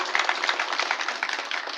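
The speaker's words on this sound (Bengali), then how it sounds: "আমরা করতালির মাধ্যমে" An audience at a formal ceremony claps to welcome a special guest, a dense, steady patter of many hands that holds evenly throughout, sounding close and moderately loud.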